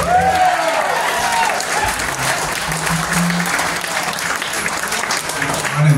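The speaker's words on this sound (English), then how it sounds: "how about give him a nice round of applause?" Loud, sustained audience applause at a live blues show for a harmonica player, a dense clapping roar with some cheering and voices mixed in throughout.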